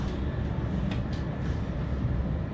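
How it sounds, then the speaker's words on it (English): Interior of an Indonesian high-speed bullet train running at speed, a steady low rumble and hum filling the cabin with no breaks, close and continuous. "the train is really quick, like now"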